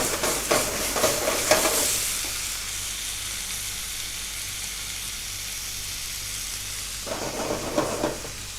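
Pieces of rabbit sear in a hot frying pan with a loud sizzle and stirring scrapes at first, fading to a quieter steady hiss, then stirring and sizzling again near the end.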